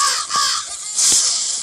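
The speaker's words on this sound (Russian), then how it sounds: "Тут ворона." A crow caws in the video game Metel, with two loud, harsh calls about 0.8 seconds apart.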